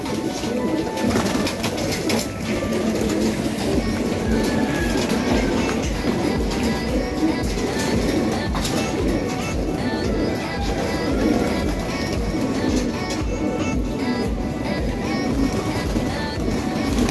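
Pigeons let out of their enclosure make a steady flurry of wingbeats and soft cooing. The sound runs continuously through the whole stretch with no talk over it.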